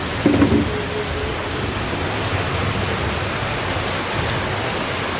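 A steady downpour of heavy rain hisses loudly and evenly throughout, with no talking.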